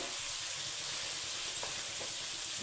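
Oil heating in a kadai: a soft, steady hiss with faint crackles, low in level and unbroken for a few seconds.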